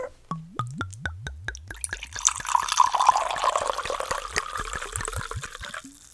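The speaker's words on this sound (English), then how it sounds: "It's time for the pour." A drink is poured close by: a quick run of distinct glugs that rise in pitch, then a steadier, frothy stream of liquid filling the glass.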